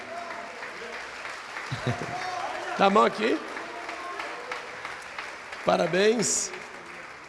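Church congregation applauding during a service, a soft steady patter of clapping in the background while voices speak over it now and then.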